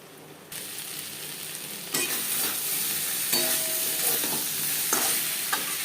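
Khoria fish curry with spices being stirred and fried in a pan, steady close sizzling and hissing with scraping stir strokes, louder after the first seconds.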